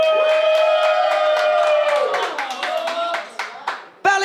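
A group claps during a French-language game-show round, sharp hand claps ringing out over a loud sustained musical tone that fades near the end before a final burst.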